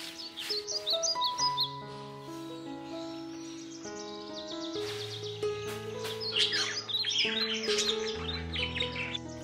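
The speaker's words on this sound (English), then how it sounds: "I love to sweep outside, hearing the birds singing" Birds sing and chirp in trees around an outdoor courtyard, layered tweets and calls close by, with sustained tonal notes running beneath them throughout.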